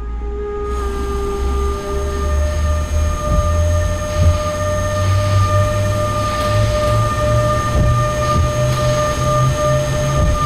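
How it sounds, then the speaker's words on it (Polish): A Traxx BR146 electric locomotive in the MaSzyna train simulator game hums steadily with a low rising drone and several steady tones, with faint clanks and rattles as it pulls away. "Nasza lokomotywa odjeżdża."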